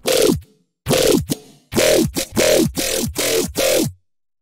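Seven punchy synthesized dubstep bass hits made from a kick wavetable with unison, each a short wobbling burst with a downward pitch swoop, fired in a quick stuttering rhythm, loud and close.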